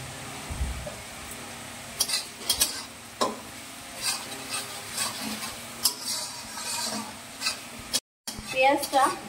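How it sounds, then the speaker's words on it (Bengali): Onions with a little salt fry in a pan, a soft steady sizzle under repeated scraping and clinking strokes of a spatula stirring them, close and moderately loud. "পেঁয়াজটা যাতে তাড়াতাড়ি ভাজা হয়ে যায় তার জন্য আমরা পেঁয়াজে একটুখানি নুন দেব"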